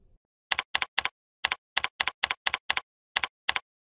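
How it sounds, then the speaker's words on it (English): Keystrokes on a computer keyboard come as about fourteen crisp, evenly spaced clicks in short runs with small pauses, close and clear against silence. "As you go on typing, the text reaches the end of the line"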